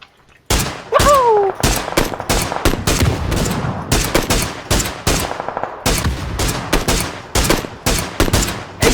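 Rapid automatic gunfire from the battle royale game PUBG, dense bursts of sharp cracks in quick succession, loud and close, with a brief whistling tone early on and almost no talk.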